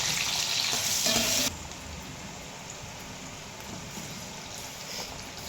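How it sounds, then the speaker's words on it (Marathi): Finely chopped onion fries in a pan with a continuous rain-like sizzle, loudest in the first second and a half and then settling into a quieter steady crackle. "बारीक चिरलेला कांदा घालते"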